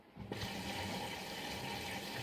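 A Bosch Serie 4 WAN28280UA washing machine draws water for its first rinse on a dark-laundry Mix program at 40°, a steady close rushing of inflowing water with a low hum that starts abruptly and continues without a break.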